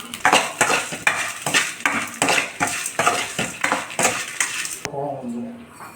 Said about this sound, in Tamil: துருவன தேங்காய் ஆட் பண்ணிக்கலாம். வதக்கிக்கலாம்.